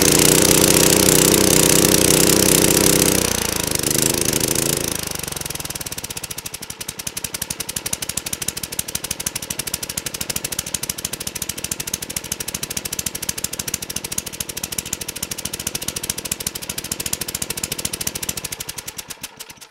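A tiny go-kart engine, running hot with flames from the exhaust, roars steadily at first, then drops to a rapid, loud, rattling putter that chugs on without pause, close to the microphone.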